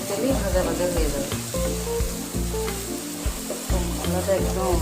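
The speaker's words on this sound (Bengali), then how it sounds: "তেলটা ছেড়েছে, এই তেলেই ভাজা ভাজা হয়ে যাবে" Loitta fish (Bombay duck) frying in hot oil gives a steady, close sizzle and crackle while someone speaks over the cooking.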